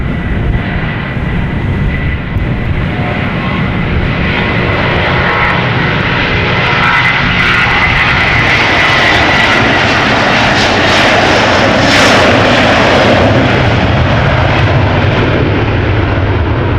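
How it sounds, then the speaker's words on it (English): Loud, sustained jet engine roar from a 16-year-old Delta Airbus A330 departing Amsterdam Schiphol Airport, holding strong throughout with rising hiss toward the end, unaccompanied by talk. "the Delta A330 flight 133 going to Detroit up next"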